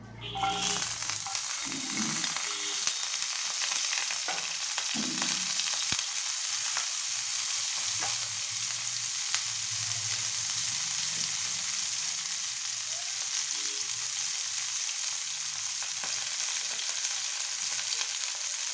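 Sliced bitter gourd hits hot oil with tempered spices, setting off a loud, steady sizzle that holds throughout, with a few soft clatters of stirring early on and no talk.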